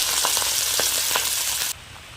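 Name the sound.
hilsa fish pieces frying in oil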